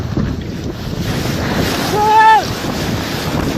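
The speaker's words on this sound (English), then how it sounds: "this cruise ship was on its way to Ireland when it ran into some pretty heavy waves" A cruise ship bound for Ireland pitching through heavy ocean waves: loud wind buffeting and a rushing surge of water fill the whole stretch, with a short tonal whine near the end.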